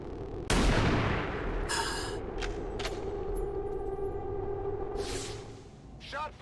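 Video game gunfire from XCOM 2, with a loud shot at the start followed by sporadic sharper bursts and impacts over a low droning game soundtrack, with some in-game voice.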